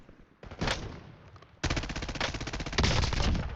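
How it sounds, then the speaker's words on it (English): Video game gunfire rattles in rapid automatic bursts, close and loud, with short pauses between volleys and no voices. "Oh, you're getting shot."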